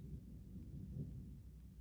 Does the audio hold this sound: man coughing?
no